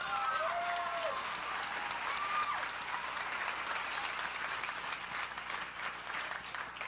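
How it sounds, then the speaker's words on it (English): Audience applause at a church ministry gathering, steady dense clapping from a crowd filling the room, loud and continuous, easing slightly toward the end, with faint voices calling out briefly near the start. "Let's give them a nice round of applause."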